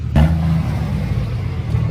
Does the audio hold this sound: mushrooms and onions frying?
no